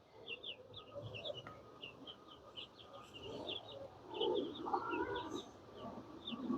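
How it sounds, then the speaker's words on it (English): Hens of a backyard chicken flock cluck and murmur softly at close range, with small birds chirping steadily in the background and no talk. "So the first hen from the main flock can come in."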